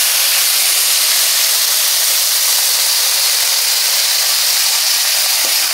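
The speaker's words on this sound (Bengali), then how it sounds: "এবারে কিছুটা জল দিয়ে দেব।" Water poured into a hot pan of vegetables gives a loud, steady sizzling hiss that lasts throughout without a break, close up, with no talk.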